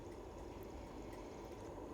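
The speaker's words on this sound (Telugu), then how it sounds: "దాంట్లోకి ఒక 2 గ్లాసుల నీళ్లు పోస్తున్నాను." Two glasses of water poured into a pot of washed, cut sorrel leaves with tomatoes while cooking Telangana-style mutton curry, a steady close splashing pour that runs unbroken and alone.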